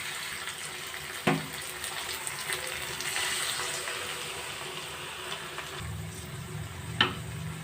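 Water rinsed from a mixer jar is poured into a pan of spiced masala frying in oil for potato chhena kofta curry. It makes a steady, soft hissing wash with a couple of sharp clinks and no speech.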